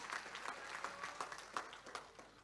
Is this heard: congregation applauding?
yes